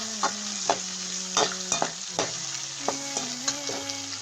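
Masala for crab gravy sautés in a pan, a steady sizzle under repeated scraping and stirring strokes of a spatula or spoon, close and continuous, with background music playing along.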